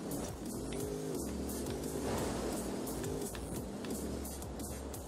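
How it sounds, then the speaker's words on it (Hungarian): Car engine in Forza Horizon 4, heard from the cockpit: a steady, muffled drone with shifting tonal pitch throughout, continuous and fairly loud with no talk. "Ugye az autó hangja is megváltozott, vagyis hát az autó hangja ugyanaz."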